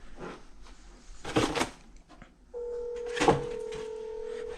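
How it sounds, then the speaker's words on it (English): A phone call is placed: a couple of short keypad tones, then a steady ringing or dial tone that runs to the end, with faint handling noise in an abandoned house. "I gotta call Johnny."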